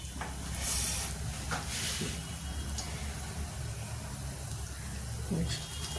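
Spinach and gram flour pakora batter dropped by hand into hot frying oil, giving a steady close hiss and sizzle with brief brighter bursts of crackle as each lump hits the oil.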